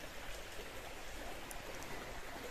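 A river stream flowing through a forest makes a steady, even rush of water, soft and continuous with no voices.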